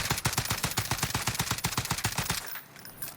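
Rapid automatic gunfire from a weapon fired while aiming down sights in Modern Warfare / Warzone, a fast even burst of loud sharp shots lasting about two and a half seconds before cutting off.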